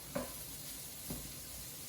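Leftover rice fries quietly in a pan for Chinese fried rice, a faint steady sizzle with a couple of soft scrapes.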